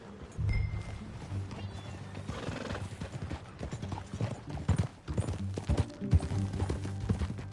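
Hooves clatter in a fast, rhythmic gallop in the video game Red Dead Redemption 2, close and continuous, with a horse's whinny and faint mechanical clicks mixed in.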